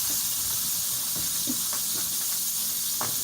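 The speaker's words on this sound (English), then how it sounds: "I'm going to put my bologna in the pan" Bologna slices sizzle in a hot pan with cold butter, a steady broad hiss with soft crackles and occasional pops throughout, fairly loud and close, no talk.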